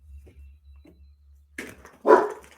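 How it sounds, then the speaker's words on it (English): A couple of soft, distant yips, then two louder barks close by, one short burst and one fuller bark at the end, over a low steady hum. "Apologies for the dogs barking."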